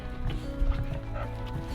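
A dog makes low, muffled barking or whimpering noises at close range in a house, over a steady background hum.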